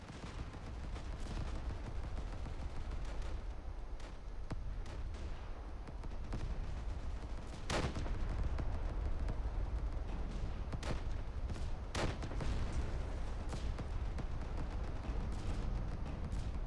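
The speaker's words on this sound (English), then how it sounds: "I'm trying to dodge this sniper fire." Distant sniper rifle shots in a shooter video game, a few sharp isolated cracks standing out over a constant dense rumble of battlefield noise.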